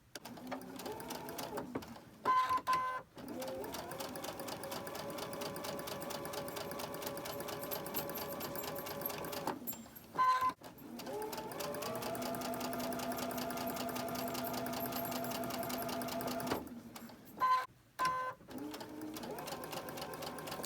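A sewing machine stitches white cotton thread with a size 12 needle at a 2.5 stitch length. It hums steadily and close up in three long runs, each broken by short pauses and clicks.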